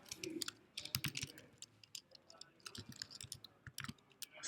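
Someone types a sudo apt-get install command on a computer keyboard: faint, close, rapid clicking keystrokes in uneven bursts, with no talk.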